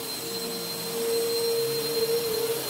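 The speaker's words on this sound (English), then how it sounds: "Oh, running the vacuum." A household vacuum cleaner runs steadily indoors, a constant whining motor drone with a high pitched tone, moderately loud and with no talking.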